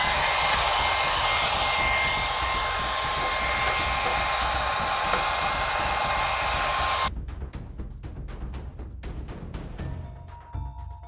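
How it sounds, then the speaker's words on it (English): A handheld hair dryer blows steadily and loudly while heating car vinyl wrap, then cuts off partway through, leaving quieter handling noises and a few sharp taps as the wrap is pressed into grooves. "heat it up with a hairdryer and push it in with your spatula."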